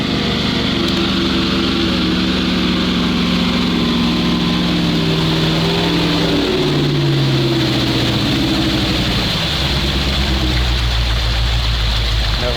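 A loud off-road truck engine, a GAZ-66 or ZIL-4975, labors and drones steadily in deep water, with rising and falling pitch as it strains, mixed with rushing, churning water noise throughout.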